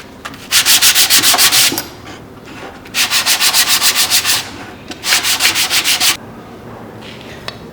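Wood coaster being hand-sanded with 220 grit sandpaper, three bursts of quick rhythmic back-and-forth scratching strokes with short pauses between, close and clear.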